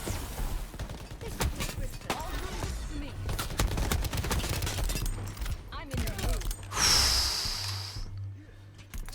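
Bursts of shotgun fire and other gunfire in the shooter game Shatterline, with repeated sharp blasts and a rush of effects near the end, mixed with heavy breathing and gasps.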